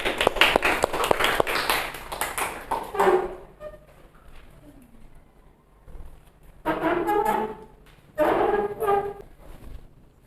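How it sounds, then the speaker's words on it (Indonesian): A class claps together after a group presentation, a loud ragged burst of hand claps that stops, then two shorter rounds of clapping return after a quiet gap with faint murmuring. "Beri tepuk tangan"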